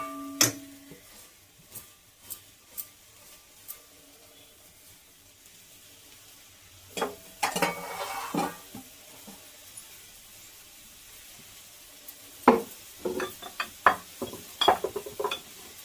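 A spoon scrapes and stirs a coconut and jaggery mixture in a pan, with scattered soft clicks that become denser and louder toward the end, along with light frying hiss.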